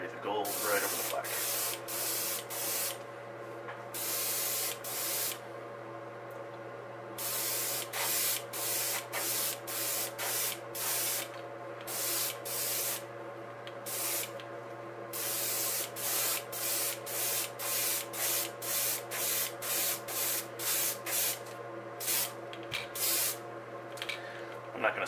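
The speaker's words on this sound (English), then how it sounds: "Spray the gold right over the black." A spray gun sprays gold paint onto a walleye crankbait lure in repeated short hissing bursts of even rhythm, loud and close, over a steady low hum, with a voice talking at times.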